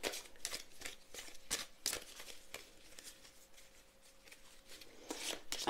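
A deck of heart-decorated oracle cards being shuffled by hand: repeated crisp riffling bursts at an uneven rhythm, close and fairly quiet, with no talking.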